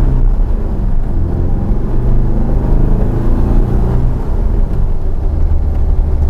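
Low, steady engine rumble from a Porsche 914 pulling away as the clutch is let out slowly, heard from inside the car without talk.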